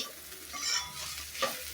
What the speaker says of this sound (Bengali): আমি এক মিনিটের মতো ভেজে নিলাম